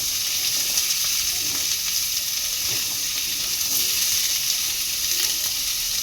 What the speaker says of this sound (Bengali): দেখুন লাল লাল করে আমি কুমড়ো ভেজে নিয়েছি।